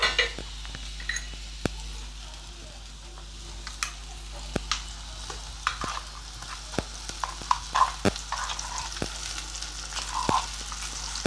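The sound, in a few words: ground spice paste poured into hot oil and frying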